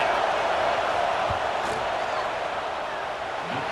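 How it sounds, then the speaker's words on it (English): Packed college football stadium crowd roaring steadily during a fourth-down field goal attempt, a dense continuous wash of cheering and noise from far and wide, with a commentator's voice faintly over it. "This crowd trying to do its part to get inside the kicker's head."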